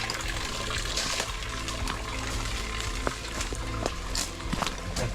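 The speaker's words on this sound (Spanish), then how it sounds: "Acá tenemos como una vertiente espectacular." Spring water flows from a mountain source in the sierra, a steady broadband rush that stays fairly even throughout with a few small splashes and knocks on top, no talk.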